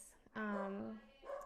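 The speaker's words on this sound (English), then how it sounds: "I'm sorry if you hear my dogs in the background." Pet dogs bark and whimper in a home, a short tonal bark-like burst followed by a softer one, faint and in the background.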